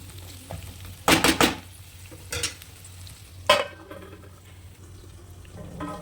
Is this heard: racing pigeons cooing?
no